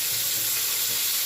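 Potatoes fry in hot oil tempered with whole spices and bay leaf, giving a steady, soft hiss of sizzling in a brief moment.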